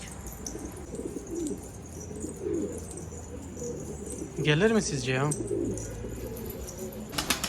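A pigeon gives a few soft throaty coos, a brief rolling call, on a snowy rooftop amid faint outdoor background and occasional quiet speech.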